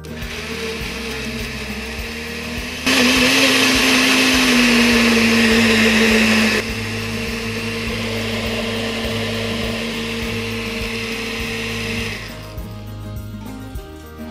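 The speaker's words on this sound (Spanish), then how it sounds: "ahora sí vamos a licuar" A kitchen blender whirs steadily as it blends oil and ingredients for a vegan cheddar substitute, its pitch rising loudly for a few seconds, then settling back to a lower steady drone before stopping.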